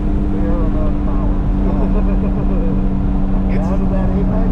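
Porsche 992 Carrera S on the Harris Hill circuit, with a loud, steady engine drone throughout and a driver talking over it.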